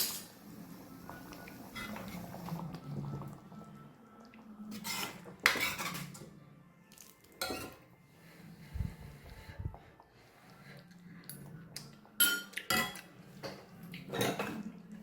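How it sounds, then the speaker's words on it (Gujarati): A metal teaspoon clinks and scrapes against a cooking pot while the salt is checked, giving a series of sharp, irregular taps and knocks that are close and fairly loud, separated by quieter gaps of soft stirring. "મીઠું ચેક કરી લઈએ ચમચીથી ટીસ્પૂન."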